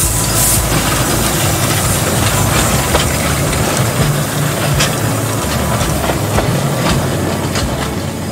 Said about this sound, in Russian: Получился довольно шустрый локомотив с мощностью парового двигателя 10 лошадиных сил и скоростью 25 км в час.